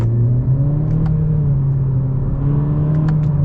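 A 2021 Honda Accord Sport with a CVT pulls hard in sport manual mode, its engine droning at a steady held pitch with a constant interior rumble and no voices.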